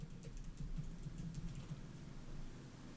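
Quick, soft keystrokes on a computer keyboard, typing a short search into Unreal Engine's blueprint editor. The clicks come in a brief burst over a low background hum, close but faint, with no talking.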